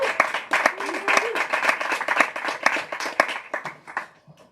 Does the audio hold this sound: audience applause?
yes